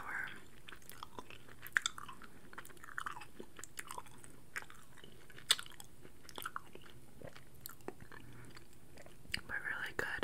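Chewing a sour Swedish gummy candy close to the microphone in an ASMR setting: soft, irregular wet chews and small clicks, quiet and intimate, with a faint hint of whispering.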